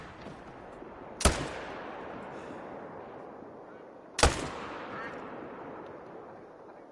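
Two sharp, loud rifle shots a few seconds apart, fired while hunting red deer in theHunter: Call of the Wild, each followed by a rolling echo that fades into quiet outdoor ambience.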